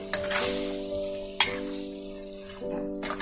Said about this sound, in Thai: เทผักลงไปค่ะ นี่นะคะผัก ใส่ลงไปเลยค่ะ